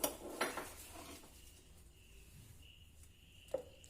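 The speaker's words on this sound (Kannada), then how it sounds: "ಇವಾಗ ತಂದಿರುವಂಥ ಬೇಳೆಯನ್ನು ಹಾಕೋಣ." Lentils (bele) tipped into a metal vessel for halasina bele budna, giving a few sharp clinks and rattles at the start, then fading to a quiet room hush with one last faint clink.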